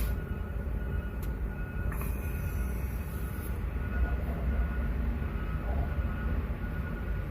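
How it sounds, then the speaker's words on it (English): PATH trains and subway cars rumble past overhead, a steady low, dense roar of rail traffic that fills the whole stretch with little change, heard alone without talk. "Listen, I got path trains and subways passing over here."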